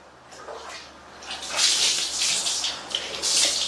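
Water splashes from a dipper in a Philippine bathroom during washing, several pours and gushes building in strength and continuing in bursts, fairly close and loud, with no voices.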